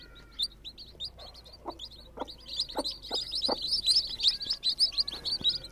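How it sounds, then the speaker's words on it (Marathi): Newly hatched chicks of a hen chirp in a rapid stream of thin, high peeps, close and fairly quiet, with a few lower clucks from the mother hen mixed in. "मित्रांनो आता पिल्लं निघालेले आहेत"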